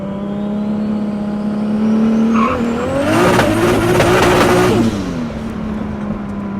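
A 1,036 wheel-horsepower Mk3 Toyota Supra is driven hard, its loud engine roar swelling into a sustained high-rpm howl through the middle as the tires spin in third gear, then easing off. No voices are heard.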